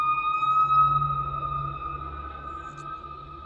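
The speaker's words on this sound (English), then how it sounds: "And now this big fire truck." A loud fire truck siren holds a steady, piercing wail close by, heard from inside a car over a low engine rumble, easing off slightly toward the end.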